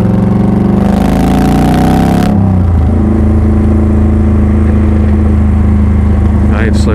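A car engine revs up with a rising whine, then drops back to a steady lower hum as the car keeps driving, loud and close inside the cabin, with someone talking over it.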